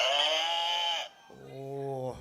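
A cow moo sound effect, played as a quiz show buzzer: two long bellowing calls, the first higher and harsher, the second a lower, steady drone, loud and close with no talk.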